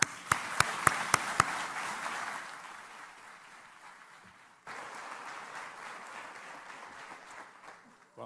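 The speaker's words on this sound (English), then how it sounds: "So warm round of applause for Dr. John Mather." An audience at a public lecture by a Nobel laureate physicist applauds, opening with a few sharp close claps, then a broad steady wave of clapping that fades, resumes and tapers off.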